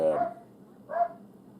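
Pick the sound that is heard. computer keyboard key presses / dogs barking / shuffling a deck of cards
dogs barking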